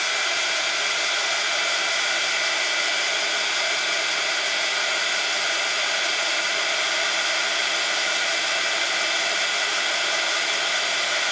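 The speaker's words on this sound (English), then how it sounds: "So let's dry this one." A hair dryer blows on an art journal page, a loud, steady rushing roar that holds without a break the whole time, close to the listener and heard on its own.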